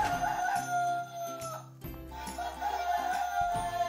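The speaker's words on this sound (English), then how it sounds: "this farm has a rooster shaped alarm clock." Electronic rooster crowing chime with a looping melodic tune from a rooster-shaped toy alarm clock, steady and fairly loud.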